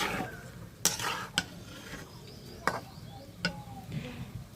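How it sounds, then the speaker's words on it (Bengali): Mutton pieces being stirred in oil in a pot, with a soft sizzle underneath and several sharp scraping knocks of a spoon against the pot at irregular intervals, close and fairly clear. "এবার ভালো মতো নাড়াচাড়া করে তেলের সাথে মিশিয়ে নিব।"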